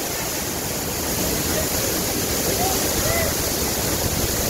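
Steady broadband roar of Vera Falls, a waterfall in Malinao, Albay, rushing water filling the whole stretch at a constant close level with no pauses.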